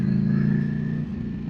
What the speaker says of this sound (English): and backing off. I've got full engine brake